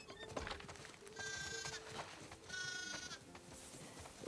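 Sheep bleating at a farmhouse in the video game The Last of Us Part II: two clear, drawn-out bleats a second apart, heard alone and at moderate volume over quiet ambient noise.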